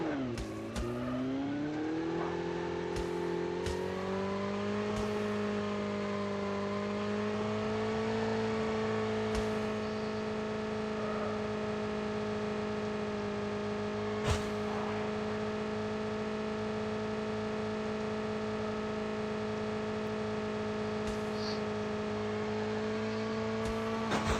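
Motorcycle engine in Call of Duty: Mobile, revving upward at the start and then holding a steady, loud drone for the rest, with a few brief clicks and thumps over the top.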